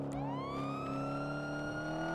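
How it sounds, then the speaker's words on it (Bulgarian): A police car siren wails in a roleplay video game, a loud, close, continuous electronic tone rising in pitch and holding steady over a low engine rumble. "Ама трябва да включиш сирените, май."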